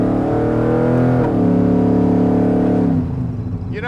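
A 1957 Chevrolet Bel Air accelerates with a loud, close engine note that climbs steadily in pitch, then drops off abruptly as the throttle is released.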